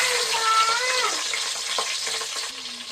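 Green chillies frying in a pan, a steady close sizzle running the whole time with a brief higher whistling tone near the start and light stirring clicks.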